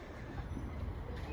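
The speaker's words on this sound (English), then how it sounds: "And incoming is my train out of here." A Class 380 electric multiple unit arriving at a station platform, its steady low rumble and wheel noise filling the scene at close range, with no one talking.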